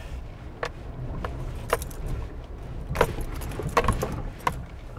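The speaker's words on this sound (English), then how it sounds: "Sorry about the keys rattling away" Car keys jangle in irregular, sharp bursts inside a 2019 Suzuki Jimny driving off-road, over a low steady engine and road rumble.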